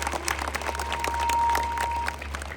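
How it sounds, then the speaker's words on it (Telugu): A crowd at a public gathering in Dhanwada claps in a dense patter of hand claps over a low hum and a thin steady tone, fairly loud and sustained throughout. "ఒకసారి గట్టిగా చప్పట్లు కొట్టండి"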